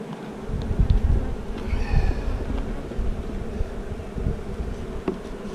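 Honey bees buzz in a continuous, fluctuating drone close by, with a few louder passes among the hum.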